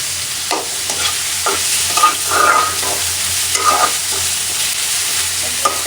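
Chopped onions fry in a very small amount of oil in a pan, a steady close sizzle broken by repeated scraping strokes of a stirring spoon, with no talking.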